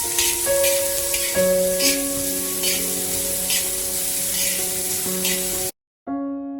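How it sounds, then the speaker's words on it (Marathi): Onion and tomato sauté in a pan for chole gravy, a steady close sizzle and hiss running on with faint background music tones, cutting out briefly near the end before resuming. "त्यातलाच थोडासा कांदा आणि थोडंसं टोमॅटो परतून घेणार आहोत आपण."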